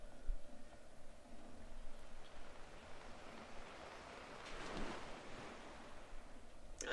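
Big water splash in The Legend of Zelda: Skyward Sword, a faint rushing wash of water swelling midway over soft ambient background noise.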